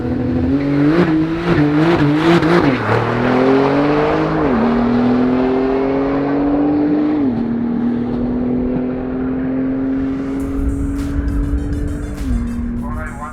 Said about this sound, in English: Bill's Turbo S here, the black one. It's been running high 10s